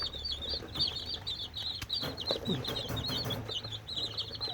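Motherless young chickens raised by hand chirp and peep steadily in high, repeated calls, joined by occasional low clucks and faint wing flutters, all close and continuous.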